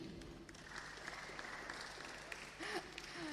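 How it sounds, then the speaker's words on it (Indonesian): An audience at a morning meeting applauds, a faint, steady patter of clapping heard from a distance and lasting throughout. "Aplaus dong"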